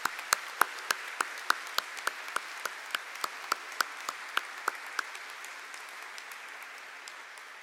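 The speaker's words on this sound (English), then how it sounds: "Please have a round of applause for these doctoral prize winners." Applause at a graduate school convocation ceremony honoring doctoral prize winners: a sparse, steady run of individual claps at moderate distance, rather faint over a quiet hall, with no talk.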